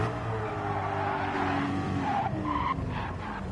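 Rear tires squeal under late, hard braking in Gran Turismo 7, a loud continuous skid layered over the roaring race car engine, with sharper squealing bursts near the end.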